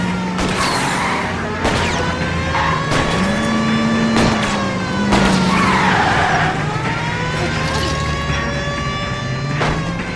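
Cars in LA Noire skid and grind as one rams another off the road, tyres screeching in long bending tones over steady engine roar, with sharp metallic impacts punctuating the chase throughout.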